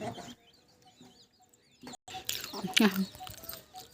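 Chickens cluck and chirp in the background, with a sharp loud squawk near the end and quiet voices and rustling around them.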